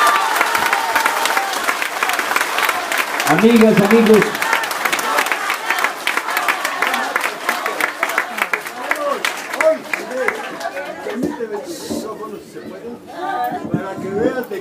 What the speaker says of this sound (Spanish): Recibámoslo con un aplauso, por favor.